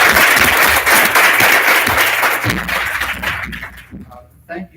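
An audience claps loudly for the candidates at a community meet-the-candidates night, a full burst of applause that gradually thins and fades, ending with a few scattered claps.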